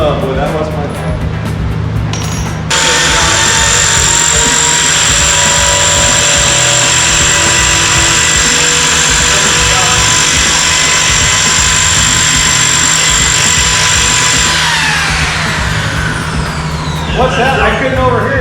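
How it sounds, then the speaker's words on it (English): A worn, junk-quality drill bit in a running drill gives a loud, steady whine with strong harmonic tones that holds for about twelve seconds before winding down, with brief talk and shop noise before and after. "I couldn't overhear you over this junk drill bit"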